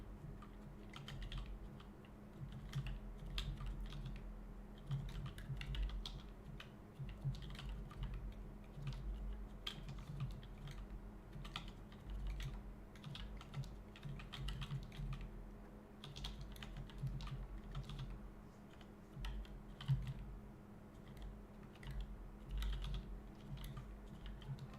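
Fast, continuous typing on a computer keyboard, a dense run of close key clicks over a steady low hum, with no voices.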